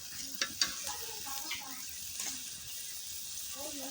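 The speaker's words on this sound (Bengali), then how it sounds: "এখন আমি এখানে এক এক করে মশলাগুলো দিয়ে দিব।" Spices tipped into onions and chillies already fried in a pan, then stirred, giving a soft sizzle with a few scraping stirs and light clatter, close and fairly quiet.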